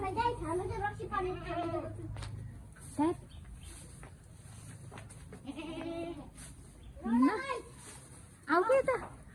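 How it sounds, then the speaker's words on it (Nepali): Goats bleat on a farm in several loud, wavering calls, with a long bleat near the middle and two more bursts toward the end, over a low rumbling background with people talking. "के भन्छ ए बाख्रा"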